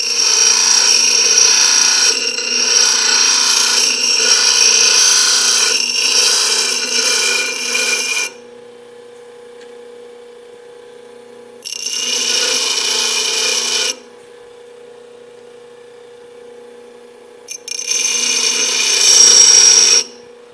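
Harsh, high-pitched grinding in three bursts as a tapered drill bit is ground, a long stretch, then two shorter ones, with a steady motor hum filling the gaps.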